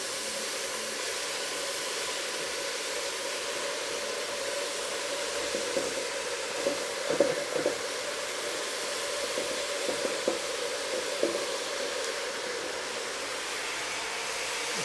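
Soya chunks frying in a pot for a vegan stew, a steady close sizzle with faint crackles and pops running throughout.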